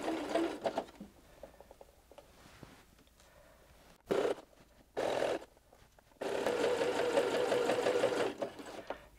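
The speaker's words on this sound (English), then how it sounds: "I've moved the needle a few positions to the left so that I can sew this invisible stitch exactly where I want to." A Pfaff Ambition sewing machine sews an invisible stitch in short bursts, each start giving a fast mechanical whirr that ends in a longer continuous run.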